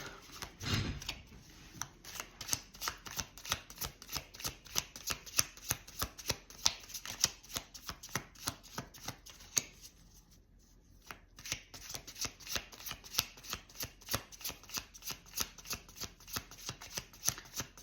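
Tarot cards shuffled by hand, a long run of rapid crisp riffles and slaps close up, steady rhythm with a brief pause midway, no talking.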